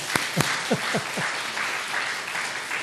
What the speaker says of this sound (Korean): 무조건 박수부터 치고 봅시다.